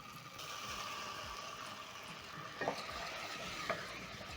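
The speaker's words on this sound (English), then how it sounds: "Stir in the rice and toast the rice for around a minute on high flame." Soaked basmati rice toasts in a hot pan over a high flame, making a constant close sizzle, with a few sharp scraping clicks as it is stirred. No one speaks.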